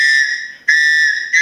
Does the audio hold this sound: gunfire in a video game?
no